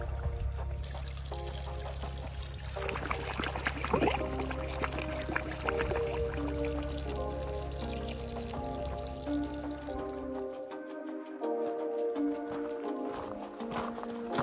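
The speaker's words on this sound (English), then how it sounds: "We even happened across a spring that someone had plumbed into an old bathtub long ago." Spring water plumbed into an old bathtub in remote Death Valley, a steady continuous pour and trickle with a low rumbling undertone that runs for about ten seconds and then drops away, leaving fainter splashing.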